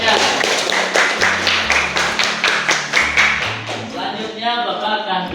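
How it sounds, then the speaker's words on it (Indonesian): Rhythmic group clapping at a school teacher-training event, rows of evenly spaced claps over music, then giving way to a softer tonal passage near the end. "Tepuk tangan untuk kita semuanya."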